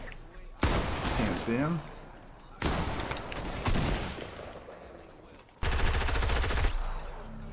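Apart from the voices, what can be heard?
gunfire in a video game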